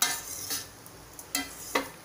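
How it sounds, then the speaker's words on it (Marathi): Poha with potato and onion being gently turned over in a pan, a few soft scraping strokes and light clinks of a spoon against metal, quiet and close with no talk. "असे उलटे करायचे पोहे. जास्त त्याला हलवायचे नाहीत"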